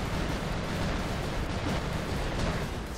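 Robot weapons firing in the War Robots video game, a dense, continuous roar of booming, rumbling gunfire that stays loud throughout the short burst.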